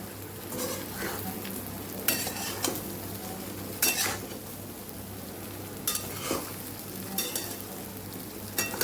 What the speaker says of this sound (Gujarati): આપણે સાતળી લેવાના છે વઘાર સાથે